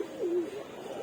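A pigeon in a loft gives a single soft, close coo while the female birds sun themselves after a bath. The call is low and throaty, with a faint hiss behind it.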